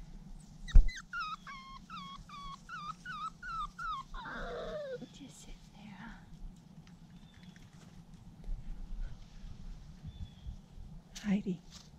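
Standard Schnauzer puppy at play letting out a quick series of high, thin whimpers and yips, then a drawn-out whine, close but soft, followed by quiet shuffling and pattering.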